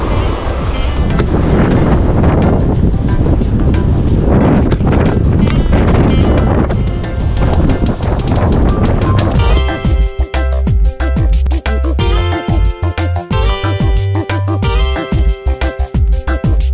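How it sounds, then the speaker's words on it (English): Strong seaside wind buffeting the microphone on a Jamaican shoreline, loud continuous roaring gusts that later break into choppy, crackling bursts, with no voices. "Wow, breeze feels strong now."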